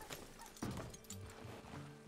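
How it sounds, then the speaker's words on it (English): Horse hooves clop faintly in Red Dead Redemption 2 as a rider sets off, a quiet, uneven run of hoofbeats under low ambient noise. "Get your horse and let's go."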